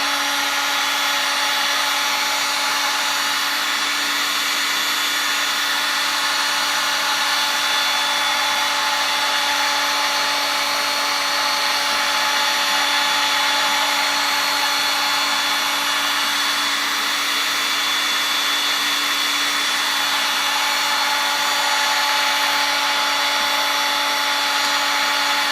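A power tool whirs steadily while removing wrap from a drum shell, a constant, fairly loud mechanical drone with a high whine running unbroken throughout, no voices.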